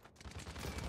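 Grenade blast and surrounding gunfire in the video game Paladins, a dense, loud burst of explosive crackle and rapid shots filling the whole second with no pause.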